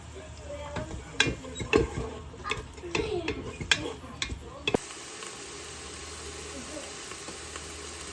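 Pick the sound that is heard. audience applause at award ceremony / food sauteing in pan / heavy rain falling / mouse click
food sauteing in pan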